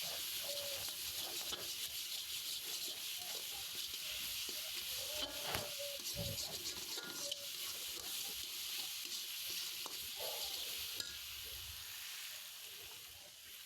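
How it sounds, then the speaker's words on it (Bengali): Spice masala fries in a wok for a chicken dish, giving a faint, steady hiss of sizzling with occasional soft scraping and stirring, quiet and continuous throughout. "এটাকে আমি ভালো করে কড়াইয়ের মধ্যে ভাজা ভাজা করবো মশলাটাকে"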